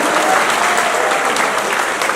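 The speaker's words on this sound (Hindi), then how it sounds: "ताली बजाओ" Audience applause at a Chhattisgarhi kavi sammelan in Takhatpur, a steady, dense crowd clapping that fills the whole short stretch at even loudness.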